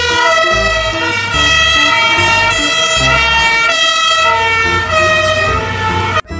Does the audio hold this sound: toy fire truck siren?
yes